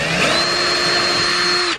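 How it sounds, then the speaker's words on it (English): Power drill boring holes into a sailboat's bow to mount cleats, one loud close continuous whine at steady pitch that spins down abruptly near the end. "We're about to be drilling the holes to mount these cleats."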